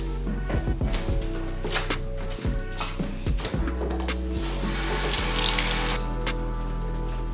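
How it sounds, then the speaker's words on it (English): Hands are washed under a running kitchen tap, a steady close splash of water with a few knocks and clatters of hands and items in the sink. No voices. "I'm gonna go over there, wash my hands"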